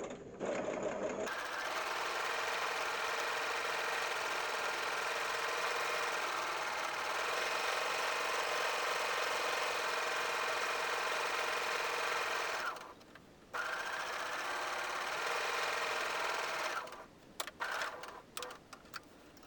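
A sewing machine runs steadily, stitching a seam on an apron, humming close and continuous for long stretches before stopping briefly, then restarting and ending in a few short stop-start bursts.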